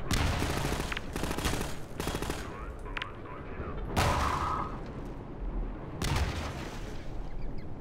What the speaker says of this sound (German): wir werden jetzt einfach mal ein paar Granaten reinballern